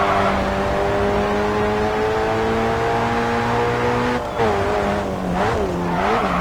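Racing car engine from the GRID 2 video game on Xbox 360, a loud sustained drone with steady harmonics that dips briefly and shifts pitch near the end, with no talking.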